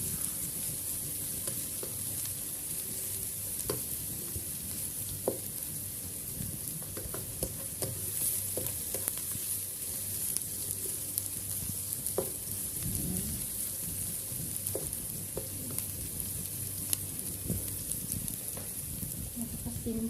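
An egg sizzles and fries in a pan with white onion, a steady dense crackle with occasional stirring and scraping, close and continuous throughout.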